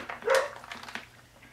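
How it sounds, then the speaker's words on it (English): A couple of quick dog barks from a short distance, faint and brief, over a quiet background. "Now they got the dogs barking."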